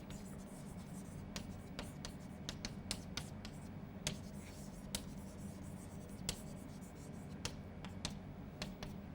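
Chalk or marker strokes on a board during a physics lecture on Hamiltonian dynamics, a steady run of short, sharp taps and scratches, fairly close and continuous over a low room hum.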